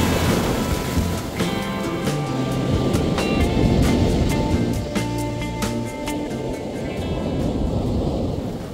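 Sea waves wash onto a beach on the northern coast of Peru, a steady, loud broadband roar of surf with no speech, continuous across the whole stretch.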